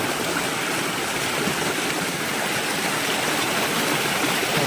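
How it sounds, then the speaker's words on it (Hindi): Fast-flowing stream water rushes over rocks in the Jammu hills, a loud, broad and constant close-up roar with no breaks and no voices. "ये पानी का फ्लो यहाँ पे तेज़ है, बहुत बढ़िया।"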